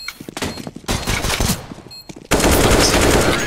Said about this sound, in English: Watch him shoot you through the box.